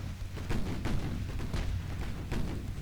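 Heavy naval gunfire from battleships booms repeatedly in a video game, several deep blasts a fraction of a second apart over a rumbling, low-pitched background.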